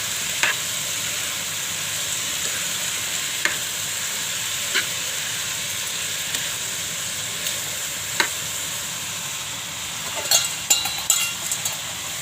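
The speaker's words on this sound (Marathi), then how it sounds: "तर मीडियम गॅसवर झाकण मारून ठेवलं." Hyacinth bean vegetable cooks covered over a medium gas flame, giving a steady low hiss and faint sizzle throughout, broken by occasional soft clinks and a few sharper knocks near the end.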